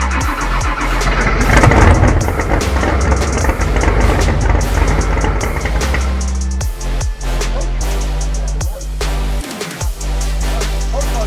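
A supercharged 1968 Chevrolet Camaro with a ProCharger F3 rumbles loudly up close just after first start, opening with a rough, busy roar and then settling into a lumpy idle with irregular dips and pops.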